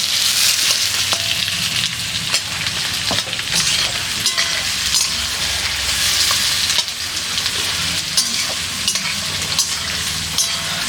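Village-style chicken curry sizzles loudly in a pan over a clay stove at an outdoor picnic, with a spatula stirring and scraping in a steady, close, continuous wash of frying noise.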